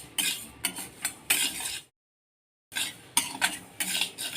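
Moong dal being roasted and stirred in a kadhai, with a spoon scraping and rattling against the metal in short repeated strokes, broken by a brief pause of silence before the stirring resumes.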